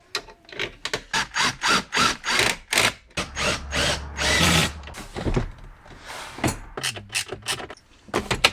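A power tool drives bolts back into an Audi A3 8V interior: a string of short, loud whirring bursts with ratcheting pulses, close up and repeated in quick succession, with little talk.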